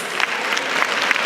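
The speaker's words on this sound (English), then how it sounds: "Keep the applause coming" An audience at a women's gathering in Nigeria applauds in a steady, dense wash of clapping that carries through the whole short stretch.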